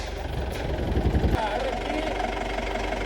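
A machine's engine starts up on a farm, heard as a rapid chugging knock for about a second that settles into a steady idling rumble, close and fairly loud.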